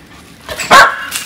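A dog-aggressive dog barks during a training walk, one loud close bark followed by a quieter yip, with no talking over it.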